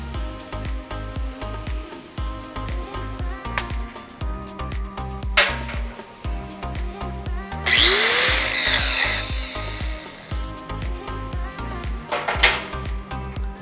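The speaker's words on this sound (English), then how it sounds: "So we've got the little handy dandy grinder out here, and I'm going to go ahead and smooth that" A handheld grinder briefly whines up and grinds down a tack weld on a stock Chevelle chassis, a roughly two-second burst in the middle, heard under steady rhythmic background music.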